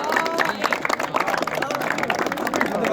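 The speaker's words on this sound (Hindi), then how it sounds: "एक मर्तबा भरपूर तालियां" An audience claps loudly at a college sports gala in Mianwali during a house cup presentation, producing dense, continuous applause with crowd voices mixed in underneath.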